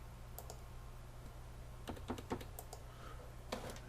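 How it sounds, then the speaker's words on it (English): Typing on a computer keyboard, with scattered key clicks that come in small bursts, fairly quiet over a steady low background hum. "Is my keyboard all right?"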